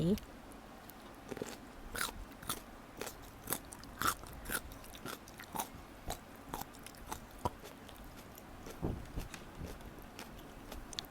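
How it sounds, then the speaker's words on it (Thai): Crunchy Thai pickled mango is bitten and chewed close to the mic, producing a long run of sharp, crisp crunches at an irregular pace with soft chewing between them. "ความกรอบก็อยู่ในระดับที่ท่านผู้ชมได้ยินเลยนะคะ"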